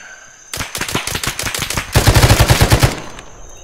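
Rapid automatic gunfire in the military shooter Arma 3, a close, loud stream of shots in bursts, getting heavier and denser near the end before cutting off.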